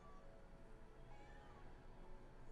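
A house cat meows and hollers indoors in a living room, a steady, drawn-out yowling that carries on through the whole stretch with no talk over it.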